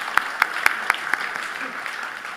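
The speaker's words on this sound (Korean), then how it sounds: "우리 다시 한번 박수로 격려하도록 하겠습니다." A handful of distinct claps ring out in an even rhythm, then dissolve into softer, scattered applause from a church congregation at a Sunday afternoon service.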